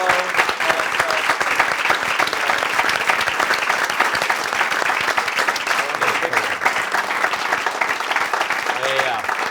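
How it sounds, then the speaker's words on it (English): Dense, continuous applause from a crowd at a live Q&A with a band, steady and loud throughout, with a few voices faintly mixed in beneath the clapping. "So if we can give them one more round of applause."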